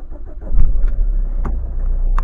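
A high-mileage Renault Kangoo at 223,000 km turns over and catches, its low engine rumble rising quickly and then settling into a steady idle close by.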